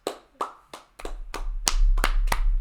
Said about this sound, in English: Let's all give a big round of applause to Macbeth's legs.